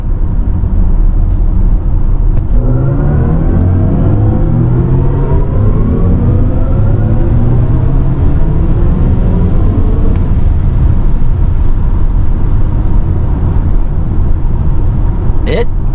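A 2023 BMW iX M60i electric SUV accelerates hard from a stop to 60 mph, a steady loud rumble of road and wind noise with a rising electric motor whine sweeping upward throughout, continuous and close.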